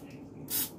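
A short, quiet hiss of cooking spray coated over the top of a mini turkey pot pie in a ramekin, a single burst under half a second long.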